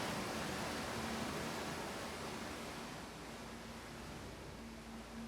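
A waterfall in the video game Outer Wilds rushes as a steady, dense roar that fills the scene evenly from start to finish, with no voices.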